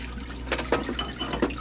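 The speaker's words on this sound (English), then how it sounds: "Ooh, you do got to be careful with this. This will splash around," Solvent splashes and sloshes inside a 5-gallon parts washer, with several short wet bursts in an uneven rhythm over a low steady hum, heard close up.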